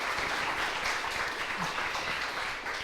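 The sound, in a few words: conference audience applause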